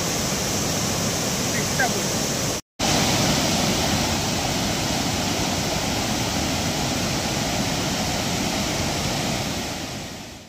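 Fast, slippery water pours down the Bhatinda waterfall near Dhanbad in a dense, steady roar that fills the whole scene, broken only by a brief gap.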